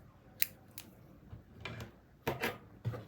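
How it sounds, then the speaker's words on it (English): Scissors snip through crochet yarn in several sharp, close cuts spaced irregularly, with quiet pauses between them and no talking. "cut off this yarn"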